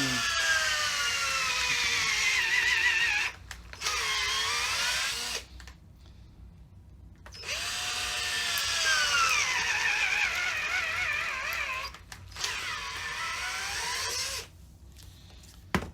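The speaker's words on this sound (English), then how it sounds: "It's really, it's hard to push that drill through." An old power drill whines steadily at high speed, boring with difficulty, pitch wavering under load, stopping briefly a few times before starting again.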